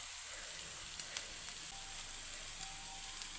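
Cauliflower vizhukkuvaratti with chilli flakes, turmeric and salt frying in a pan, a steady soft sizzle with faint crackles throughout, no talking.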